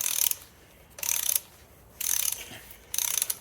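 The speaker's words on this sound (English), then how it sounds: "I'm just going to be sitting here arbitrarily removing bolts" Ratcheting wrench clicking in four short bursts about a second apart, loosening intake manifold bolts on an Oldsmobile 403 6.6-litre V8 engine during teardown, close and fairly loud with quiet pauses between.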